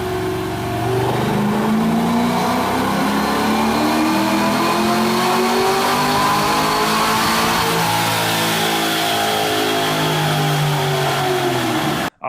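LS-swapped OBS truck engine on its first test drive, revving hard through rising and falling sweeps, loud and close with no voices.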